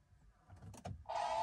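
A few soft clicks and thumps, then the Abarth 500e electric car's buzzy artificial startup tone kicks in sharply near the end and holds.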